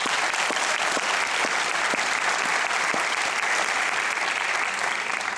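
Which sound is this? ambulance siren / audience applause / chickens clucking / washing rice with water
audience applause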